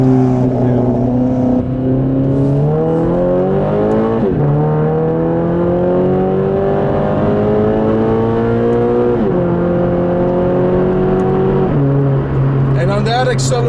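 A 2017 Toyota 86 860 edition, a small rear-wheel-drive car, accelerating hard through several gears, its engine note climbing steadily and dropping at each shift, loud and close from inside with a brief spike of noise near the end.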